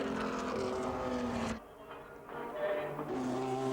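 A Peugeot race car competing at Le Mans, its engine whining loudly at high revs before dropping away, then climbing again as it drives on, with a commentator talking over it.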